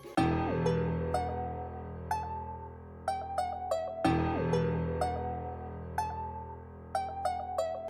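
A clean guitar picks a looping melody with notes that glide between pitches, over a ringing low bass note, repeating twice at a steady pace.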